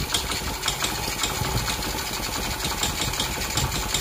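A Honda Cub CD90 motorcycle engine runs on a test bench, a steady rapid ticking putter close by, even and unbroken with no talk.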